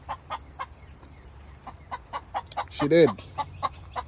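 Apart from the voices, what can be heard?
hen clucking after laying an egg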